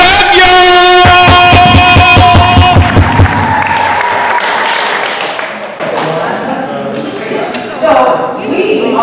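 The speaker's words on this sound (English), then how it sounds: "Clap it up, y'all!" A town hall audience claps amid music and loud voices, with sharp taps and thuds dense in the first few seconds and a busy, crowded mix continuing after.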